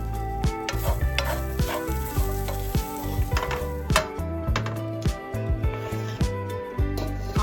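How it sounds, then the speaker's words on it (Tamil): Garlic, cumin seeds and black pepper dry-roast in a pan with a steady light sizzle, stirred with a spoon that scrapes and taps the metal in irregular close strokes. "1 ஸ்பூன் ஜீரகம், 1 ஸ்பூன் நல்ல மிளகு சேர்த்து லைட்டாக ரோஸ்ட் பண்ணிக்கலாம்."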